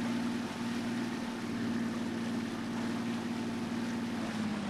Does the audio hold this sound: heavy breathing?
no